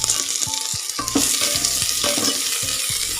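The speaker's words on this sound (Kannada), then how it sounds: "ಸ್ವಲ್ಪ ಈರುಳ್ಳಿಯನ್ನು ಫ್ರೈ ಮಾಡ್ಕೊಳ್ಳೋಣ" Chopped onions frying in a clay pot for Brahmin-style majjige huli, a steady close sizzle broken by repeated scraping stirs of a spoon against the pot.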